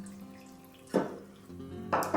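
Water is poured into dry plaster of Paris for a candle vessel casting in two short splashy bursts, close and fairly soft, over quiet background music.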